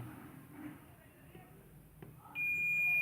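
A multimeter on continuity mode tests MOSFETs in a desktop motherboard's VRM section. After a quiet stretch with faint handling and low speech, a steady, clear beep starts and holds to the end.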